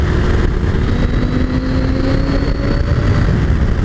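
A KTM 890 Adventure R rally motorcycle's twin-cylinder engine pulls hard out of corners, a loud continuous drone with steady revving and rushing wind, no talk over it.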